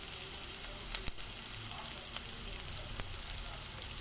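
Onions and curry leaves frying in oil for pepper rice, a soft continuous high sizzle with occasional crackles and light ladle taps, close by.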